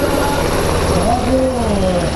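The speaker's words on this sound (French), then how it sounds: "Regardez la gazelle qui arrive rapidement dans la zone." A Gazelle army helicopter sweeps quickly into the display zone at the Cholet 2022 air show, its steady rotor and turbine drone loud and near, while a commentator speaks over a public address system.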